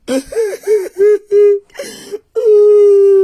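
A woman cries loudly and close by, with a series of wavering, pitched sobs and wails broken by short gasping pauses, then ending in one long sustained wail.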